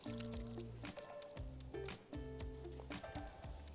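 Onion water is poured into a sausage marinade of salt and black pepper, a close, continuous liquid splashing and trickling with no talk.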